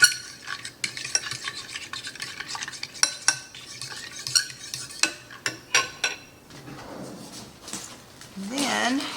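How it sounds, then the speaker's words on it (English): Seasonings such as black pepper are stirred into a flour mixture for chicken and biscuits, with clinks and scrapes of a utensil against a bowl, a soft rustle near the end, and a person talking throughout. "And those seasonings will also go into the flour mixture. We'll get that all mixed together."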